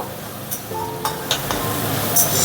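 Spice paste for katla fish kalia curry fries in a pan, a steady sizzle broken by several light clinks of a spoon stirring against the metal.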